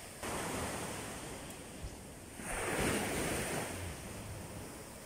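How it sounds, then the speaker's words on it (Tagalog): Sea waves wash onto an island beach in a steady, broad roar, swelling into a louder surge midway through, with wind buffeting the microphone and no talking. "Ang huni ng alon, super napakasarap sa tenga."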